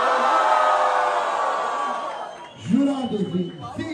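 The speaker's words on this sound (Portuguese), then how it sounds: "barulho pra quem gostou das rimas do Guri" A rap battle crowd at a Brazilian street battle final cheers and whoops loudly in a dense roar for a couple of seconds, then dies down as a voice takes over.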